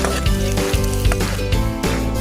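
Ginger and garlic fry in hot cooking oil with a steady, close sizzle, and stirring adds soft rhythmic bumps.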